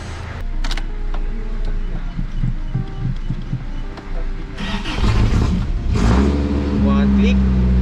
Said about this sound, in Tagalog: susubukan ko lang start yung kotse tapos ilabas